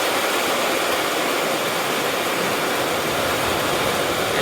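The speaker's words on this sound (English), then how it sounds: "I just got a river of water coming down my path here, all the way through from out the back." Floodwater streaming down a garden path from the back of a house, a steady, close, rushing hiss of running water with no voices.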